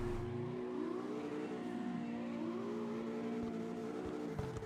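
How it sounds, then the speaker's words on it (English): A drift car's engine held in fourth gear at steady high revs, a loud continuous drone with rising and falling tones as the car slides, close and without talk. "Fourth gear still has a good amount of torque to it though."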